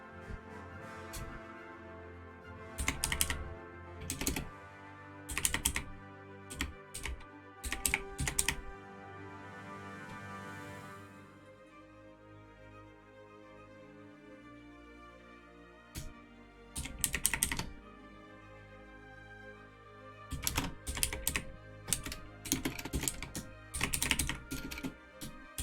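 A loud, clacky computer keyboard is typed on in rapid bursts separated by pauses, with quiet electronic game music playing underneath throughout.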